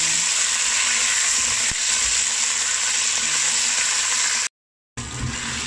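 Fried pork ribs being sautéed and stirred in a pan for Chinese steamed spareribs with taro give a loud, steady, close sizzle with faint stirring scrapes. It cuts out briefly near the end, then resumes.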